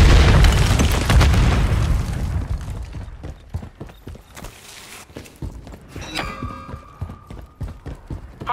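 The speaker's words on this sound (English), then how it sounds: "Throwing grenade." A grenade explodes in a Modern Warfare 3 team deathmatch: a loud, close blast opens, then a rumbling decay fades over a few seconds into scattered battlefield thuds and footsteps.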